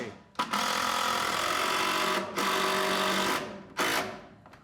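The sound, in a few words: driving a 5.5-inch heavy-duty structural screw into wood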